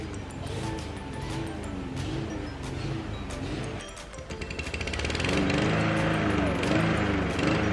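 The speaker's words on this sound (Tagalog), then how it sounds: "Magka-cut scissor ng grass." Grass is cut in a garden with a motorized cutter whose engine drones in and out at a moderate distance, then swells louder and steady toward the end.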